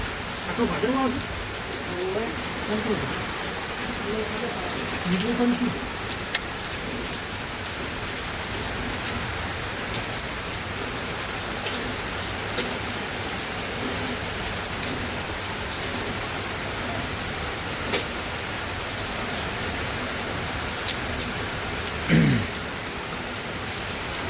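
Steady, dense rain pattering on surfaces, continuous and fairly loud, with a few faint voices and a bird cooing briefly in the background.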